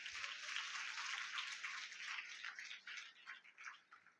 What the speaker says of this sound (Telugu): చప్పట్లు కొట్టండి అందరూనే